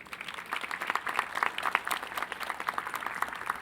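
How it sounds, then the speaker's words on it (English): Audience applause at a 2013 university freshman convocation, steady dense clapping from a crowd filling the hall, moderately loud and continuous without a break. "Let's give them an applause"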